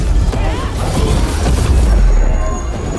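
Rook's Dark Squall spell detonating sundered enemies in Dragon Age The Veilguard combat: a loud, dense, rumbling magical burst that sustains for a few seconds with crackling impacts layered on top.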